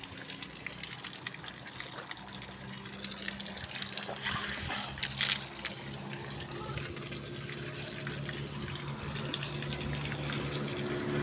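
A water bottle is refilled from a tap at an overflowing-water stop during a bicycle ride. The water pours in a steady, continuous gush for several seconds amid outdoor background noise.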